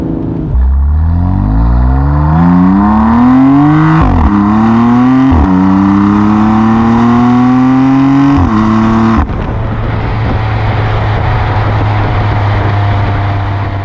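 A 2018-2020 BMW M2 Competition (F87) engine with full bolt-on modifications revs loudly and repeatedly, pitch climbing through several gear changes before settling into a steady, throaty drone.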